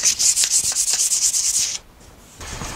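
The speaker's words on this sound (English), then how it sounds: "give it a rub down with this super soft stuff, which is P1000, which is super soft sand, sandpaper" P1000 sandpaper is rubbed over a wooden Victorian chair frame, giving quick, rhythmic scratchy back-and-forth strokes, close and loud, before it stops and leaves faint rustling.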